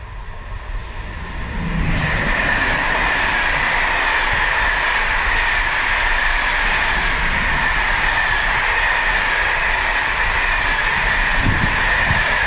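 A train rolls through a station past platform 1 at Anzola Emilia, its roar rising quickly after a quieter start and then holding loud and steady, with rumbling wheels and metallic rail noise close by.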